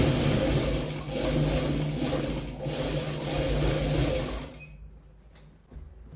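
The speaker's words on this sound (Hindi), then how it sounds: "अब हम इसकी शोल्डर की सिलाई करेंगे।" Sewing machine stitching the shoulder seam of an overcoat, a steady close mechanical whir running for about four and a half seconds before stopping, leaving near silence.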